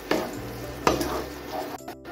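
Poppy seed paste sautéing in a pan for egg posto, a low steady sizzle with two sharper scrapes of a spoon against the pan, close and with no voices.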